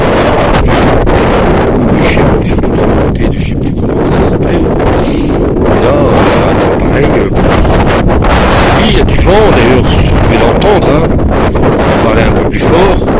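Strong wind buffets the microphone on a long walking trail of the Camino Francés, a loud, constant roaring rumble heard from start to finish, with a voice partly buried beneath it.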